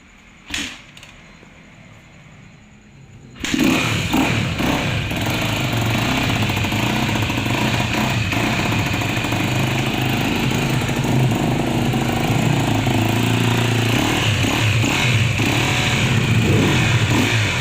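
A KTM EXC-F 250 dirt bike engine stays quiet at first, then fires up after a few seconds and runs loud and close with a buzzing, revving tone for the rest of the clip.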